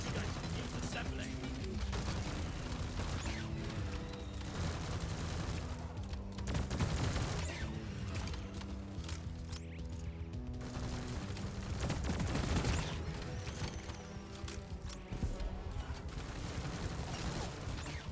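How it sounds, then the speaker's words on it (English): Automated sentry turrets in Deep Rock Galactic clatter into place and open fire, a dense, continuous stretch of rapid gunfire and mechanical rattling over a busy game soundscape with music-like tones underneath. "Sentry guns keep assembling."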